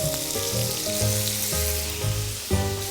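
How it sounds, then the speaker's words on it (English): Raw shrimp dumped into a hot pan of olive oil for scampi sizzle loudly and steadily, with the broad hiss holding close and constant while low background music hums beneath throughout. "And we're gonna grab our shrimp and we're gonna dump our shrimp right in."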